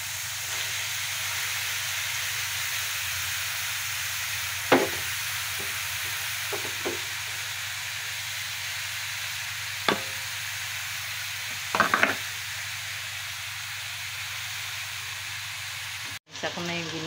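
Ground pork or beef fries in a pan with a steady faint sizzle and hiss, broken by a few sharp utensil taps and stirring scrapes, then a loud clunk near the end.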